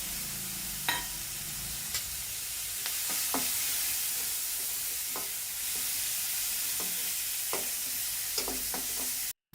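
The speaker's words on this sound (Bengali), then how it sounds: "পেঁয়াজ ভালো করে লাল লাল করে ভেজে নেব" Chopped onion sizzles in a pan for a crab masala made with elephant foot yam, a steady soft hiss broken by occasional scraping stirs of a spoon, fairly quiet and with no voices.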